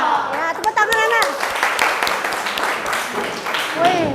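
Schoolchildren in a classroom clap their hands together in a rhythmic cheer, a close, lively burst of many small hands mixed with voices and chatter throughout.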